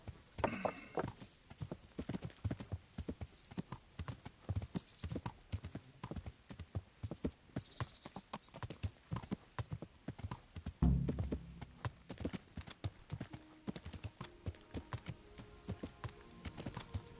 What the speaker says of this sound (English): Mount up, Pebbles